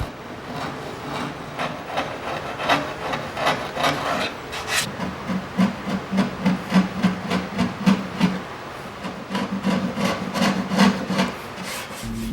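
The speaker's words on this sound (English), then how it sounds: "I'll use dental tools to remove some of the paint" Dental tools scraping paint off a thin-veneered wooden buffet, a close, repeated rasping scratch in quick uneven strokes, steady and loud without talk.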